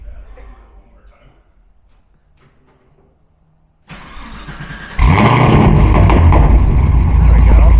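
A Corvette engine cranks and fires up, jumping to a loud, steady roar that holds after quiet, faint background murmurs at the start.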